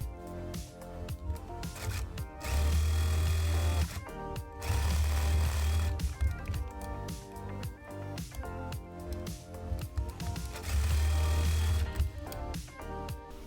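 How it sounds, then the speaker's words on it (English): Sewing machine stitching the side and shoulder seams of a cloned dress, running in steady droning bursts with short pauses between them. "So I'm going to sew the sides and shoulders together."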